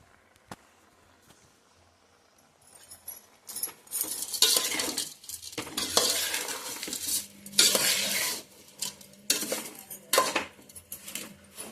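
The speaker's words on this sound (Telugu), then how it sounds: "పసుపు వేసుకొని దీన్ని మిక్స్ చేసుకోవాలి" Turmeric stirred into tomato in a metal pan, a spoon scraping and clinking repeatedly against the pan in irregular bursts after a quiet start, with no speech.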